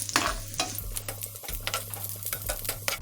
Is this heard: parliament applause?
no